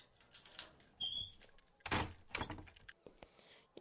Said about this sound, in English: You hear the click of a door opening.